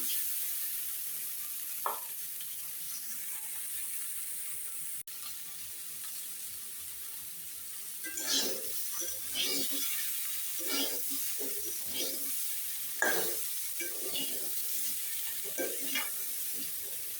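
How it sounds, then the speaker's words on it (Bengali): Koi fish curry with tomatoes cooking down in a pan gives a steady low sizzle. Stirring scrapes and clatters come in clusters over the second half, and one sharp tap lands early on. "টমেটো দিয়ে আর একটু ভালোভাবে কষিয়ে নেব।"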